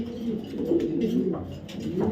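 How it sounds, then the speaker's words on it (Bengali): A white racer female pigeon coos close by in soft, continuous throaty murmurs, with faint background noise. "একটা হোয়াইট রেসার ফিমেল কবুতর"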